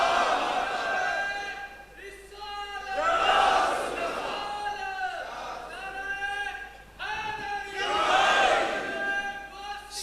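A large crowd at a religious gathering chants slogans in loud, surging unison, rising and falling in repeated waves of shouted cries over roughly ten seconds.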